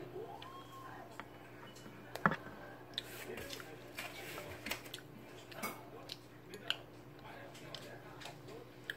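Close, faint chewing of a sweet potato flavored jjondeugi chewy snack, with soft sticky clicks and squishes recurring irregularly over a quiet background.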